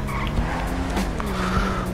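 Car tires skid and squeal loudly as a new family car pulls away in GTA Online, with a steady engine drone underneath and no talking.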